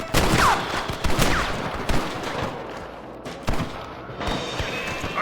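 Gunfire from a Western shootout in the Red Dead Redemption video game: rapid volleys of loud, close rifle and pistol shots, bursting in clusters across the whole stretch with little pause between them.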